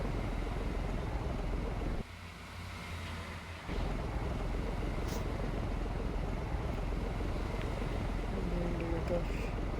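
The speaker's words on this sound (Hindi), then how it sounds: "चलो इंजन स्टार्ट करते हैं।" A truck's diesel engine starts and settles into a steady rumble, a continuous low drone heard close inside the cab, briefly dipping before returning at full level.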